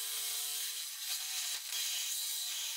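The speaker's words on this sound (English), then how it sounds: "I think the few teeth that this saw blade had left are now pretty much worn down to nothing." A worn reciprocating saw blade with its teeth nearly gone grinds through a steel car frame rail on a Grand Am, giving a steady, close, harsh scraping with a faint high whine and brief dips, no talk.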